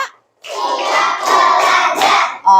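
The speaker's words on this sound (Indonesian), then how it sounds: "Oke, tepuk 5 sekali lagi. Tepuk 5." Schoolchildren in a classroom clapping together in a counting clap game, a loud, close burst of many hands that runs for about two seconds with slight swells before cutting off.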